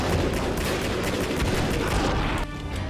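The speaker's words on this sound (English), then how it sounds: "Dude's got a fucking grenade launcher!" Dense, continuous gunfire and explosive blasts from a grenade launcher fight in the video game Max Payne, loud and sustained with a slight drop near the end, no speech over it.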